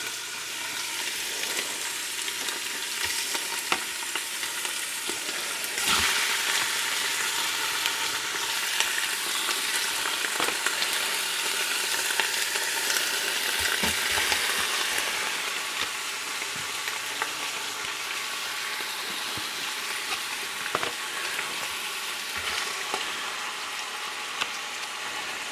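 Hot oil sizzles and spits steadily in a frying pan while keto chili cooks, a dense close-up crackle with sharper pops of splashback, continuing for the whole stretch without talk.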